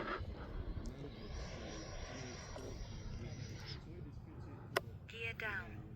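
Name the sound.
RC fighter jet flying before landing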